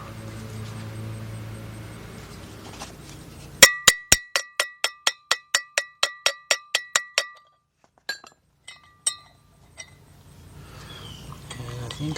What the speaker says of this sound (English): you can hear it while you're hitting the bearing down